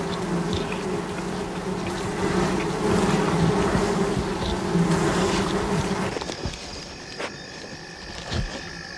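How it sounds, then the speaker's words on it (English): A dense swarm of African bees buzzes steadily around damaged honeycombs after a honey badger's attack, a loud continuous drone that thins out and gives way to a fainter, sparser hum near the end. "The bees have regrouped around the damaged combs, presenting a formidable defense against another attack"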